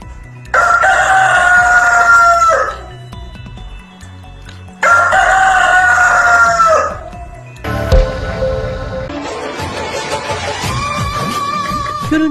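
A rooster crows twice, loud and close, each call a few seconds long with a pause between, followed by a busier stretch of clucking and farmyard noise.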